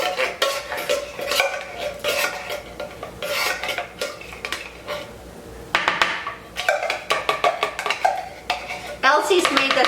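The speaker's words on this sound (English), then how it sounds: "We're just going to whisk it together" Metal whisk clattering and scraping against a crock pot bowl while mixing pork chop gravy ingredients, a busy rhythmic run of clinks and stirs that pauses briefly midway and resumes louder toward the end.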